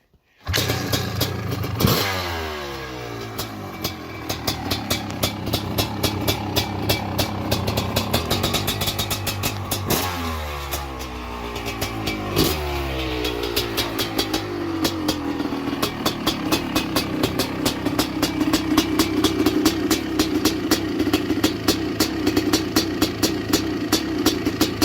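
Honda CR500 two-stroke dirt bike fires on the first kick without choke, then revs in sharp repeated blips that fall back between them, settling into a loud, close, rattling idle that runs steadily to the end.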